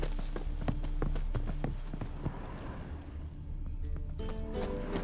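Horses gallop in The Witcher 3 with a steady run of hoof clip-clops over continuous game ambience and background music, the hoofbeats clear and close, briefly dropping away mid-scene.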